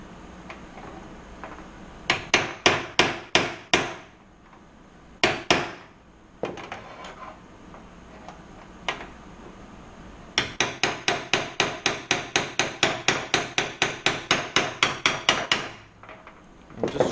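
A hammer taps repeatedly on a rivet, working it out of the forward torque tube bearing on a Zenith 750 Cruzer aircraft. The sharp metallic blows come in short bursts and then in a long, steady run of evenly spaced taps.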